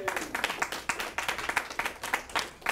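An audience claps and applauds a co-host at a comedy show taping, a dense, steady patter of many hands close and loud, with a faint voice underneath.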